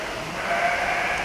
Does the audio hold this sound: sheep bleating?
yes